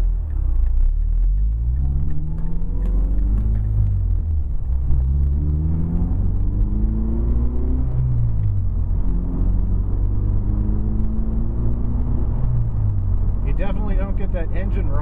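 Pulling away from a stop, a 2010 Mazda 3 GT with the 2.5-litre engine climbs through several gears, each rising drone dropping back at the shift, loud and close from inside the cabin.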